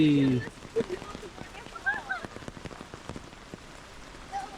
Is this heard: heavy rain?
yes